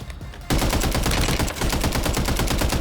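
Rapid automatic gunfire in Warzone rattles loud and close in a steady, unbroken stream of quick shots after a brief softer lead-in, with only a slight dip midway.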